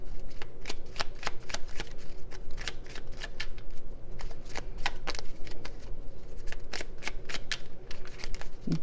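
Tarot cards being shuffled, a steady run of crisp riffling flicks and slaps close up, continuous and fairly loud with no talking.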